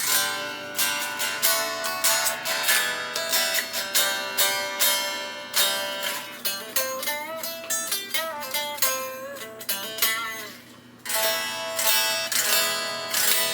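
An unamplified Strat-style electric guitar is strummed in thin, bright chords, then single notes bend and ring before the strumming resumes.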